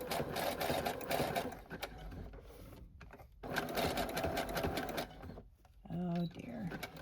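Sewing machine stitching along the edges of dust jacket journals runs in rapid mechanical bursts with short pauses between them, while a person talks nearby.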